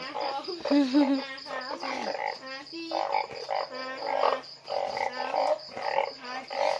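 Many banded bullfrogs croak at night in Laos, a dense chorus of loud, repeated throaty calls from several frogs overlapping continuously, with a faint insect hum underneath.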